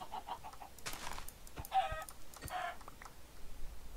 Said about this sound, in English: Have some chickens.